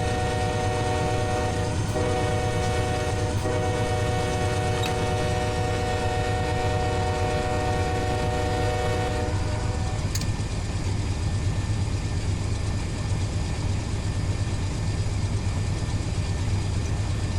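A fast CSX intermodal freight train roars past at about 60 mph, a loud continuous rumble and rush of wagons with a sustained multi-tone horn blast in the first half, no voices.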